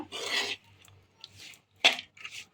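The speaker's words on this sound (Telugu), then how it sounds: "మంచిగా ఇట్లా కలుపుకోవాలన్నమాట." Rice for raw mango pulihora is stirred and mixed in a vessel, making several close scraping, rasping strokes with short pauses between them and no talking.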